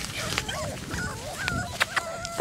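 Several puppies out on their first outing whimpering and yipping, overlapping wavering high whines with short sharp yips scattered through, close by over a low rumbling background.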